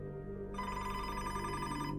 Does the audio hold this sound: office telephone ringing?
yes